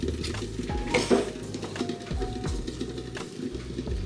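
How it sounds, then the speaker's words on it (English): Pancake batter ingredients, flour with plenty of cinnamon, being stirred and mixed in a bowl for blueberry pancakes, with repeated scraping and clinking of a utensil against the bowl, close and steady. "Right now, we're just combining the ingredients and getting ready for the milk that we're gonna add."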